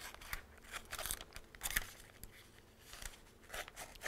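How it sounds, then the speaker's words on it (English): Scissors snip through a thin strip of adhesive-backed fabric for a craft flower, with quick irregular crisp cuts and faint rustling of material, close up and without speech. "So I'm just going to go ahead, cut a thin strip."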